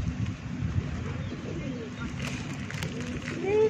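Pigeons coo softly nearby, several low rolling calls overlapping with faint chirps from a large flock.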